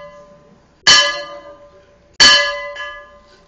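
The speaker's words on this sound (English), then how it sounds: "the death bell is rung." The death bell at Bodmin jail is rung twice, each stroke a sharp metallic clang that rings on with a slowly fading tone, the two strokes about a second and a half apart, loud and close.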